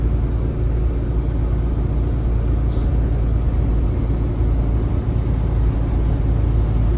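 A truck overtaking another vehicle on a highway from Oregon toward Canada, heard as a loud, steady engine and road rumble with constant wind noise and no distinct changes throughout.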